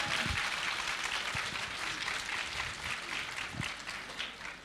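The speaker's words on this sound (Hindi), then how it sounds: "एक बार पहले दिव्या दत्ता के लिए ज़ोरदार तालियां हो जाएं" A live festival audience gives a hearty ovation for actress Divya Dutta, a thick, continuous roar of clapping with occasional louder individual claps punching through, sustained throughout.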